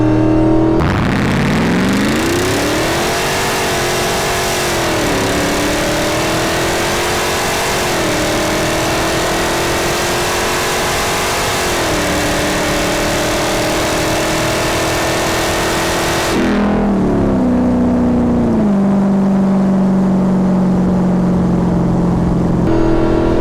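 A Hellcat-swapped Jeep Gladiator Recon with over 750 hp accelerates hard with traction control off, its loud engine roaring and rising in pitch through several gear changes before settling into a lower steady drone.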